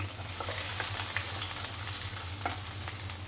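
Garlic sautéing in a pan, a steady bright sizzle with small crackles and a low hum beneath, close and continuous.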